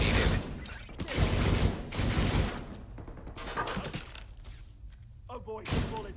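Bursts of gunfire crackle through a firefight in The Division 2, loud clustered volleys with quieter gaps between, while a voice talks over the shooting.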